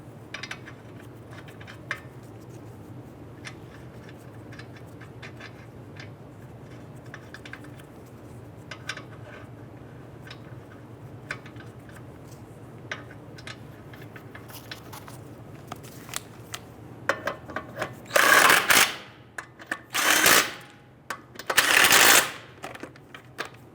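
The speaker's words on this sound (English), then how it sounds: "Let's go ahead and get our lug nuts all started by hand, and then we'll go ahead and snug those down." Lug nuts being started and snugged on a 2005-2010 Chrysler 300 front wheel: faint metallic ticks and clicks over a low hum, then three loud, harsh bursts near the end, each lasting about a second.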